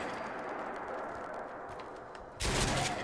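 Remington 870 police shotgun firing in Fallout 4, a sudden loud blast near the end after a stretch of dense battle noise.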